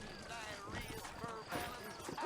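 Horse hooves clip-clop in a western video game set in New Orleans, an uneven run of moderate hoof knocks with a faint whinny-like tone, heard under a voice talking.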